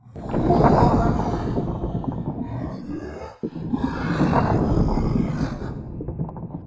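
A human voice imitates the deep, guttural roar of a giant rocky beast during a tabletop role-playing game, in two long, rumbling growls split by a brief pause.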